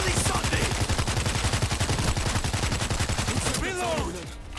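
Rapid automatic gunfire in the zombie shooter World War Z, a dense, fast stream of loud shots lasting about three and a half seconds before fading.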